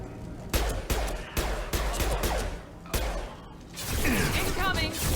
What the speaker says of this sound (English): Suns and Vorcha shooting anything that moves.